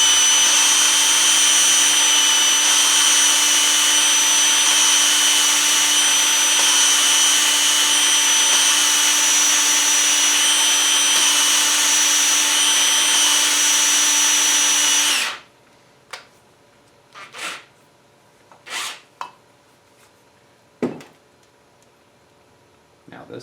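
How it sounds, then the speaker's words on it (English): An electric drill spins a valve lapping tool against a valve seat on a 2007 GMC Yukon, giving a loud, steady whine for about fifteen seconds before it cuts off, followed by a few brief clicks and scrapes. "I'm just putting pressure, pulling back on the drill and letting off"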